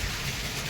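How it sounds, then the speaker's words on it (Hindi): Steady rain falls outside a parked vehicle, a dense, even hiss of drops with no breaks, close and fairly loud, with no voices over it. "वाकई में भाई बारिश ही हो रहा था भाई।"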